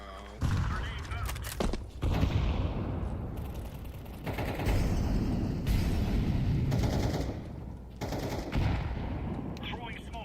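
Rapid gunfire bursts in a video game, loud and dense, broken by short pauses, with players talking over the shooting.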